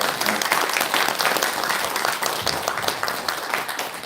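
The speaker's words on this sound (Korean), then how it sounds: "감사의 큰 박수 부탁드립니다" A congregation at a Korean Buddhist regular Dharma service gives big, sustained applause, a thick, even roar of many people clapping that fills the room and slowly eases off.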